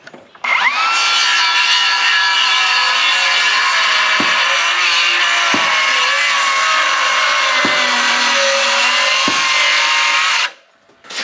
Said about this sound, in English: we'll have the chance to try the saw out by ripping some timber